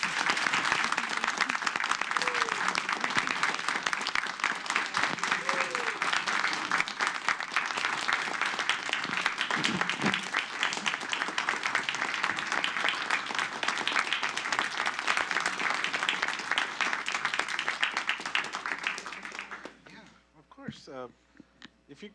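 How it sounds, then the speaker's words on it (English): Sustained audience applause at a city council meeting, a steady dense clapping that fills nearly twenty seconds before fading out, with a few voices and cheers mixed in near the end. "Let's give Peggy a big round of applause"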